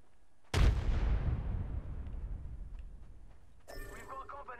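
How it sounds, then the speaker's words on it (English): A single grenade blast in Apex Legends booms suddenly and loudly, then rumbles and fades over a couple of seconds before a short burst of further game noise. "Grenade deployed."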